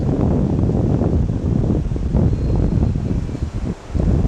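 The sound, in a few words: strong wind blowing on a lakefront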